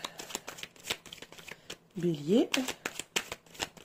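Tarot cards riffle and slap in a quick crisp shuffle close up, a rapid patter of card edges running throughout, while someone speaks briefly in French over it.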